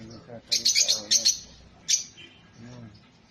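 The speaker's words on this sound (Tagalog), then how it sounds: "Yung magandang ibon dun. Parot, maliliit." Small parrots giving a quick series of high, bright chirps near the start, then one more chirp after a pause, at moderate distance over a soft background.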